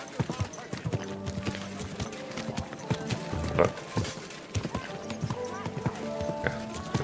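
Horse hooves clip-clop steadily through Kingdom Come: Deliverance 2, a continuous walking rhythm of close, crisp knocks layered with background game sound and voices.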